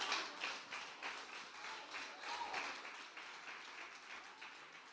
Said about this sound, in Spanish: Dale un aplauso si se lo va a dar.